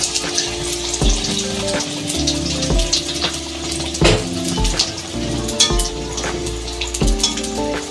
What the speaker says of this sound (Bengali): এরকম এরকম করে ভেজে নিতে হবে ধোয়া উঠার সঙ্গে সঙ্গে